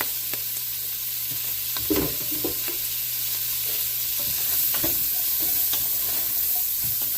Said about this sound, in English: Now we're going to add the onion and the herbs that we did. Cook that down.